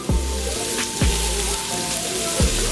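Onions sauté in a pan with salt and pepper under a dense, even sizzling hiss close at hand, with three soft low thumps spread through it and no speech.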